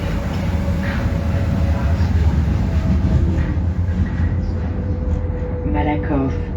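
Paris metro train ride near Malakoff–Plateau de Vanves, a steady loud rumble of the moving carriage throughout with a faint whine and brief squeals near the end, a voice talking over it.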